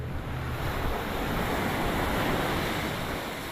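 Sea surf rolling onto eroding Caribbean shoreline in Barbuda, where water has swallowed a coastal road, a continuous loud wash of waves mixed with heavy wind buffeting the microphone.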